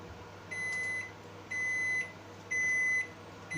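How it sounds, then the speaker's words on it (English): A microwave oven finishes its countdown with a series of evenly spaced electronic beeps, about one per second, each a clear, bright tone held for roughly half a second against a quiet hum. "So the microwave is just counting down there the last"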